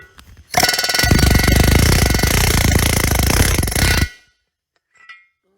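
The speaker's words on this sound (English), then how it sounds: "We hit it with the air hammer, and the valve guide is starting to come out." Air hammer pounding out a stuck valve guide from the cylinder head of a John Deere H tractor, a loud, dense rapid hammering burst lasting about three and a half seconds, then cutting off, with a faint knock afterward.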